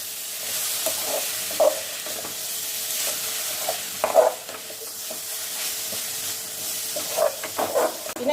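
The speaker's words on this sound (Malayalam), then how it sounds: "പിന്നെ നല്ലോണം ഇളക്കണം" Green gooseberries (amla) being stirred in a pan, with a soft sizzle and intermittent scraping knocks of a spoon against the pan, close and fairly quiet.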